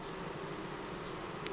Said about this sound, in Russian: Пчел уже много здесь.